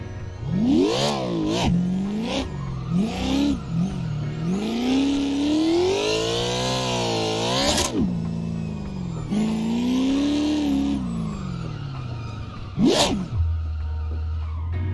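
A race car drifts in the driving game Assetto Corsa, its engine revving and falling in sweeping surges while tyres squeal through long slides, loud and continuous, ending in a sharp burst and a low idle.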